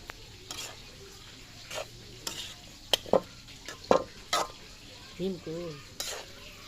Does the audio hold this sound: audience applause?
no